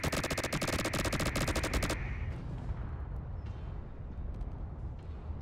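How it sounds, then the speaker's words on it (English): Tank gun rounds fire and ricochet inside a video game, a loud dense burst of rapid shots for about two seconds, then a rumbling, scattered tail of impacts and echoes fading out. "You see rounds ricocheting off and hitting random areas."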